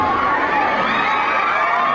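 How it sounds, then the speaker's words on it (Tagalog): A dense crowd of supporters shouts and cheers for Vice President Sara Duterte at a rally in Sarangani Province, a loud, steady roar of many voices with high whoops filling the whole moment. "Sigawan, grabe."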